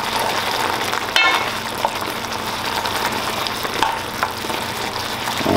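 Steady, loud sizzling and frying of lobster rasta pasta sauce as Parmesan cheese is added, a constant crackling hiss with a single sharper clatter partway through and no talk.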